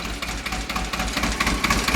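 A Kubota L2002 or L240 diesel tractor engine runs close by with a steady, knocking chug, rough and clattery, holding an even idle with no talk over it.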